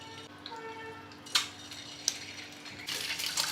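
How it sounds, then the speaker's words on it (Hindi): Scored boiled eggs in hot oil, with a faint sizzle under a few light clinks of a utensil against the pan, close and quiet, the frying growing a little louder toward the end. "गरम ऑयल में डाल देंगे"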